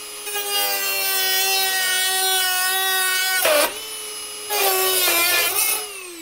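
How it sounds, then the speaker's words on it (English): A Dremel rotary tool cuts away material while fitting Warn winch accessories to a new Land Rover Defender L663, giving a loud, steady high-pitched whine that breaks off briefly and then resumes, with no talking. "I'll just finish off these bits with the Dremel."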